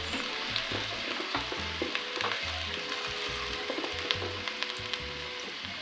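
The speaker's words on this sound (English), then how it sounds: "I saute the onions until golden brown" Onions sautéing in hot oil in a pan over a fire, early in cooking pilau: a steady, close sizzle and crackle with light stirring clicks, no voices.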